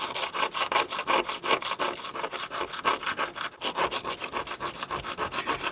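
Abrasive stone rubbed over the rough metal of a third-generation Smith & Wesson pistol, a steady, close, rhythmic scraping of back-and-forth strokes with no talk.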